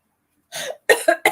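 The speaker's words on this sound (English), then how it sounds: "Coughing, nervous cough." A quick run of small, tight coughs, about four short bursts close to the listener, with no talking.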